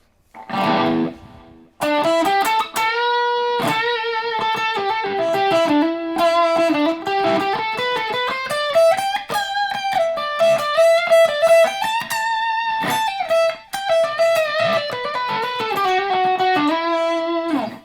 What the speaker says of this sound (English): those are some great lead tones.